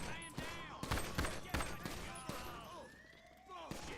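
Video game gunfire pops out in rapid sharp bursts, several shots in quick succession, fairly faint and mixed with whooshing game effects and a rising whine, with no clear voices over it.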